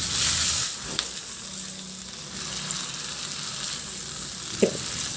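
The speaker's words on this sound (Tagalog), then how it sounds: "At ihalo hanggang sa maluto yung kamatis" Sliced tomatoes cook in a pan for a pork pata soup and are stirred, giving a steady close sizzle with a few sharp utensil knocks against the pan and no talking.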